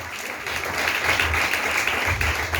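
A church congregation at a French-language service applauds, a full, steady wash of clapping that swells after a quieter start and holds loud throughout.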